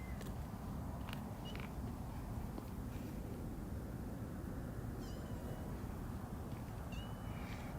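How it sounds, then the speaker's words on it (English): A small kitten on a busy street gives a few faint, high meows, spaced apart over a constant wash of traffic noise. "Oh, it's just the kitten I befriended."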